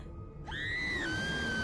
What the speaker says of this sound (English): Is it a scream?